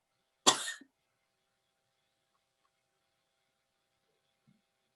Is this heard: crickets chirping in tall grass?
no